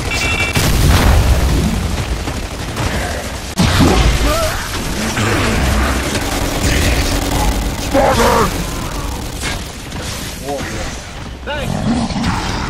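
Heavy booming grenade blasts in a video game, several loud thumps rolling one after another across the stretch, with a voice talking over the noise.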